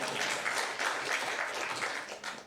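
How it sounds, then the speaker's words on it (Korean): During a church worship service for a women's mission society, the congregation breaks into sustained, even applause, a thick wash of many hands clapping that fades slightly near the end. "70명. 박수 치고."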